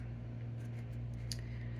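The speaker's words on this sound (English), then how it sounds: "I'm gonna do it with my scissors." A few quiet, crisp snips of scissors over a low steady hum, faint and close, with no talking.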